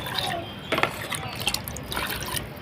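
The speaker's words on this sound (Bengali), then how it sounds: "এখন পানি দিয়ে দিব।" Water poured into a cooking pot of thick haleem in a home kitchen, a steady splashing pour running through the whole short stretch with a few louder bursts, close and moderately loud, with no talk over it.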